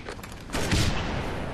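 Sniper rifle shots in Halo Reach's Rumble Pit: a quick sharp crack early on, then a louder booming report with a rumbling tail, with no talk over them.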